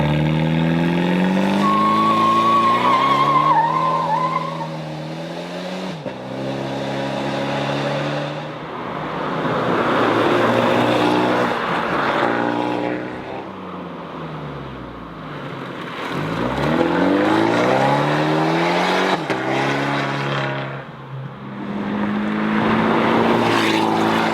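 An Abarth 124 Spider with a 170-horsepower 1.4 liter turbo petrol engine revs hard while being driven, its loud engine note climbing repeatedly through the gears with short breaks at each shift.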